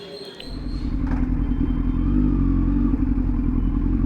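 Superbike engines, including Kawasaki ZX10R and Z900 and Suzuki GSX-R 1000, rumble nearby on a night ride, the deep droning growing louder after a second and holding at a strong, steady roar.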